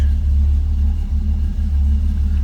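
A 1968 Pontiac Firebird's 400 V8 idles with a deep, steady low rumble, close and loud, with a slight lope in its rhythm.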